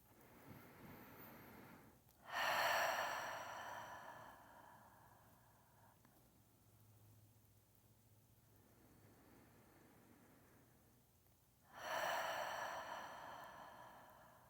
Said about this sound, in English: We'll take 3 full breaths in here.